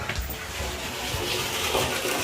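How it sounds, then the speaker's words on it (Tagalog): A toilet bowl flushes, water rushing and falling in a steady, close wash that swells slightly toward the end, with no talking. "Ang bagsak ng tubig oh. Wala namang problema yung flush niya."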